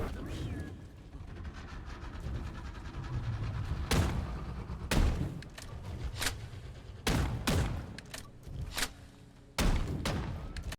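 Boomstick shotgun blasts against a Glyphid Oppressor in Deep Rock Galactic, about six heavy booming shots spaced a second or two apart, loud and close over constant rumbling game ambience, with someone talking underneath.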